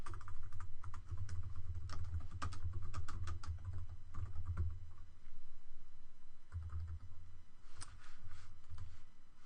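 Rapid bursts of key clicks come from a computer keyboard as C# code is typed, close and crisp, with short pauses between flurries and a low hum underneath, no talking heard.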